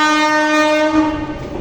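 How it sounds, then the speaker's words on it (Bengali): A train passing close by near a garden in Bagdogra, its loud sustained horn blaring for over a second before the rumble of the wagons takes over. "এই দেখো ট্রেন গাড়ি আসছে,"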